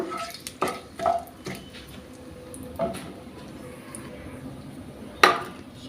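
A spoon stirs bay leaves and dried red chillies in a pan for paneer butter masala, making sparse scrapes and sharp clinks against the metal over a soft background sizzle.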